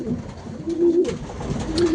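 Young racing pigeons that have flown competitions, cooing in a loft: two brief, soft, close coos over a low murmur of other birds.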